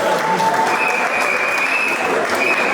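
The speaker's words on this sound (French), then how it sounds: "On applaudit pour les finalistes quand même" A crowd applauds the finalists of a game, with steady dense clapping that runs evenly throughout and has a faint murmur beneath it.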